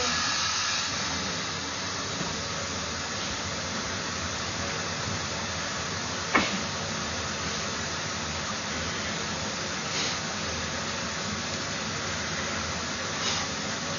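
Water runs through a residential backflow preventer, a steady broadband hiss of flow continuing throughout at moderate level, with a brief knock near the middle and faint clicks later.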